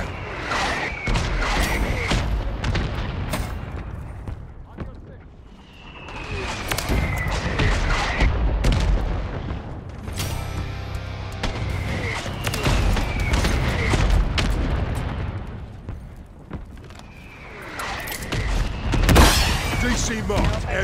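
An artillery fire mission strikes in Call of Duty, with rolling booms and crashing impacts mixed with bursts of gunfire throughout, while radio-style voices chatter over the barrage.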